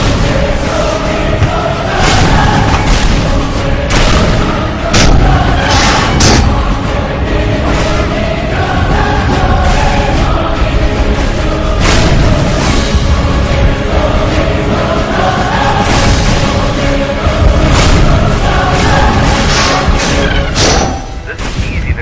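Cannon fire rumbles through a dense, chaotic movie battle scene, with heavy booms and thuds layered over crowd shouting and constant loud noise.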